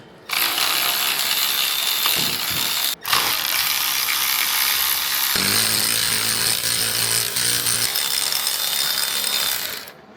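Ratchet wrench loosening a secondary air pump on a Mercedes-Benz engine, a steady close buzzing ratchet clatter broken by one brief pause, continuing for about ten seconds without talk.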